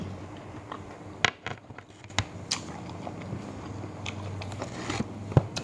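Crunchy bites and soft chewing on sliced pork belly wrapped around mushrooms, a few sharp isolated bites spaced out over low background hum, close and fairly quiet.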